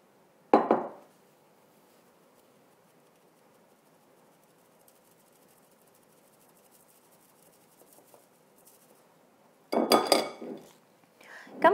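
Flour is mixed into egg batter in a bowl for a chocolate genoise. Metal clinks and scrapes against the bowl come at the start and again near the end, with long quiet stretches between.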